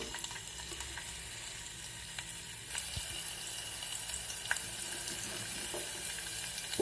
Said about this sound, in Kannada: ಒಂದು 7-8 ಬೆಳ್ಳುಳ್ಳಿ ಹಾಕ್ತಾಯಿದ್ದೀನಿ ಜಜ್ಜಿರೋದು